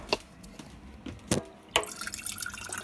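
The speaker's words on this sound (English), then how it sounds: "put some filtered, awesome purified water for their first drink in the brooder" Filtered, purified water poured into a baby chicks' drinker in a brooder, heard as a few soft drips and splashes followed by a steadier trickle of liquid, close and fairly quiet.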